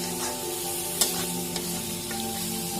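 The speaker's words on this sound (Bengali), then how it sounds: "তো আমি একটুখানি নেড়ে চেড়ে দেবো ভালোভাবে।" Boiled jackfruit fries in a pan with spices under a steady, close sizzle. A spoon stirring through the pieces adds a few soft scrapes and knocks.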